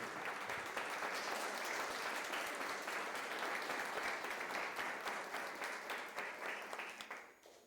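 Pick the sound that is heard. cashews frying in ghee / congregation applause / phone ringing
congregation applause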